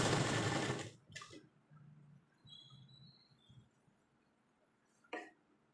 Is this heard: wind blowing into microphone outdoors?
no